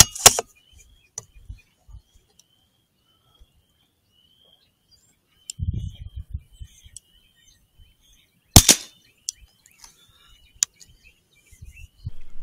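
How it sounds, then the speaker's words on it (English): Two sharp rifle shots ring out while a Pulsar Thermion XP50 thermal scope is zeroed outdoors, one early and one later, each loud and brief, with birds chirping softly in the quiet between. "I'm gonna shoot two right there."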